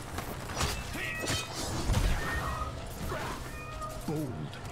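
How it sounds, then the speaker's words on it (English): A pet cat meows indoors, several moderately close calls rising above steady room noise while a person talks. "Now he's like full on meowing again"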